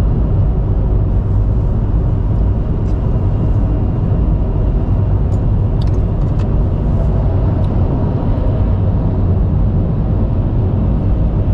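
Steady low road rumble and engine drone from inside a moving car on the way to Berkeley, continuous and fairly loud throughout with no talking.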